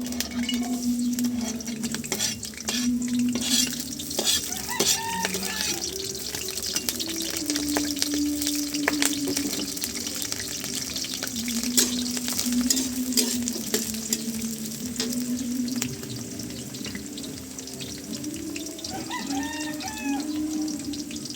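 Garlic and a large onion frying in a pan, a steady loud sizzle running throughout with occasional scraping stirs and faint clinks, no talking.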